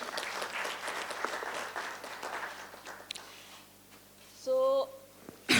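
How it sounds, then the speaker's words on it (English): Audience applause at a women's health summit on menstrual hygiene, menarche and menopause in India, a spread of clapping that fades out, then a short burst of high electronic beeps and a sudden loud thump at the end. "Huge round of applause to her also."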